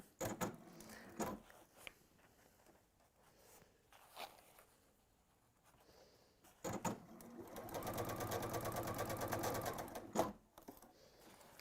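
A sewing machine stitches ribbon in a short, fast run of even mechanical clatter, preceded by scattered handling clicks and taps, close and fairly quiet.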